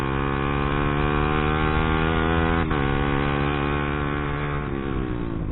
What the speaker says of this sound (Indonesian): Set di knalpot bacot juga ya.